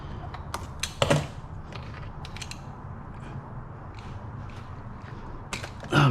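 Cutting a catch can hose on a 2024 Toyota GR86 gives a few sharp snips and crunches near 1 s and 6 s over a steady workshop hiss, with no talk.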